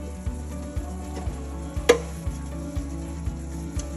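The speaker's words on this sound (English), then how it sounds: "So we're going to be adding our garlic, our ginger, and our pepper." Beef frying in a pan for Kenyan pilau rice as garlic, ginger and pepper are added, a steady close sizzle with soft periodic stirring scrapes about every half second and one sharper clatter midway.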